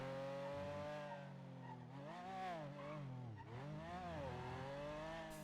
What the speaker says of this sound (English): I wouldn't mind maybe getting an engine that isn't as noisy as this one